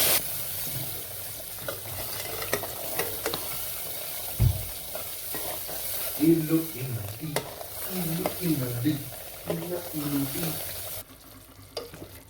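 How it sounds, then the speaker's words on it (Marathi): Masala hitting hot oil for a spicy mutton curry, a steady sizzle with stirring scrapes, while a voice talks over it in the middle; the frying cuts off near the end. "आता याच्यात टाकून घेऊ मसाला."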